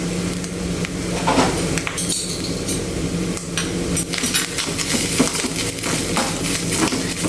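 Grated coconut roasting with fenugreek in a pan for Kerala erissery, giving a steady dry sizzle with frequent metal utensil clinks and scrapes throughout, close and fairly loud.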